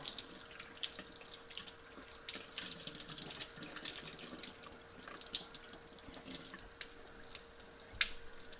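A kitchen tap runs steadily while razor clams are rinsed clean after a clamming trip, a soft continuous water hiss with faint splashes and drips, close and alone without voices.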